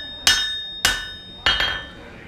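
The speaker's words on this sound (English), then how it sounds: "I'm being very careful about the angle of my hammer is coming down." A hammer forges the bevel of a knife blade on an anvil at a Wild West town, four sharp ringing metallic blows spaced about half a second apart, the last two close together, each with a bright ringing decay.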